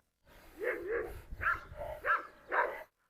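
A Doberman and a Cane Corso bark and yip in several loud, close bursts with short pauses between them, sounding agitated, with no talk over them.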